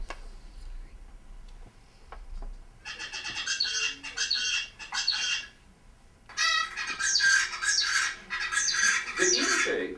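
Zebra finch pupils imitate an isolate's song in two dense runs of rapid, buzzy, squawking syllables. The first comes in around three seconds and the second, louder one follows after a short pause, close up with faint room noise beneath.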